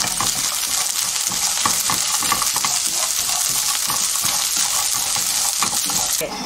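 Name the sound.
walnuts stir-frying in cooking oil in a frying pan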